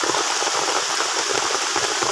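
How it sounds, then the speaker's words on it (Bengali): Heavy rain pours down in a steady, dense hiss of drops striking surfaces nearby, continuous and fairly loud. "মানে খুব জোর বৃষ্টি এসে গেছে।"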